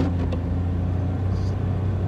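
Steady low engine rumble from a noisy pickup truck driving on the road, heard from inside the cab as a continuous drone with no pauses.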